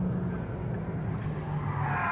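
A 711hp 992.2 Porsche 911 Turbo S slides sideways through a corner, tires squealing against a steady engine roar, heard at moderate distance.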